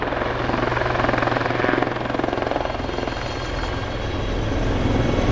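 A Royal Navy Lynx HAS3 helicopter of 815 Squadron at the East Fortune airshow, its rotor and engine making a loud, steady thudding drone that stays close and constant throughout.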